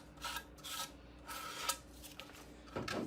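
Sandpaper is rubbed over the edges of a 3D printed part in short, quiet rasping strokes, about five soft scratchy passes spaced irregularly, close and alone.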